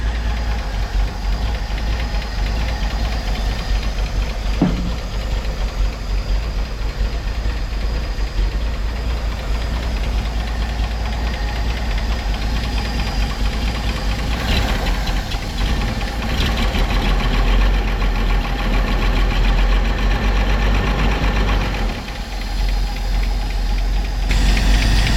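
Car engine idles steadily nearby with a continuous low rumble and rapid rhythmic knocking underneath, loud and unbroken throughout with only small shifts in tone.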